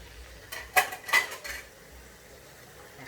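Fried pork larb being spooned from a pan onto a plate, with a few sharp metal-on-dish scrapes and clinks clustered near the middle, close and fairly quiet against a low background.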